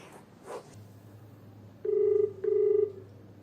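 A telephone call connects with two evenly spaced ringback tones, each a clear steady buzz about half a second long, heard close and alone after a quiet start.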